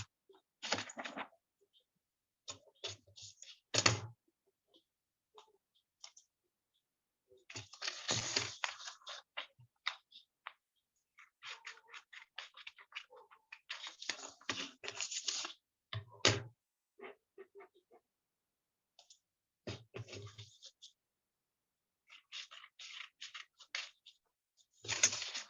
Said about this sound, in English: So I'll just cut it with the scissors.